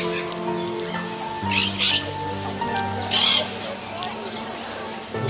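Birds in a zoo enclosure squawking in a few short harsh bursts close to the microphone, over a background hum of steady tonal noise and low murmuring.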